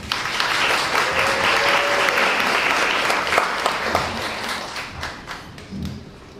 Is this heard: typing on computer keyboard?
no